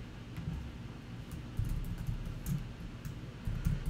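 Fingers typing on a computer keyboard during a markup coding walkthrough, working control, command and arrow keys: soft, fairly quiet irregular key clicks in quick bursts over a low background hum, with no talking.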